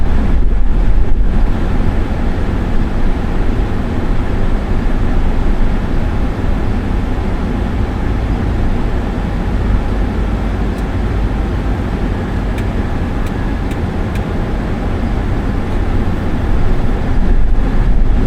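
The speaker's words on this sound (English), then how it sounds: "the noise of the AC didn't completely drown me out" Steady broadband rush of car air conditioning blowing inside a vehicle driving through city streets, constant and close for the whole stretch with no talk over it.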